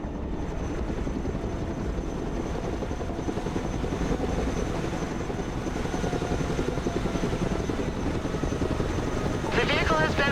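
A helicopter in the war game Broken Arrow throbs with a continuous, loud rotor chop and engine roar. A faint higher whine enters near the end.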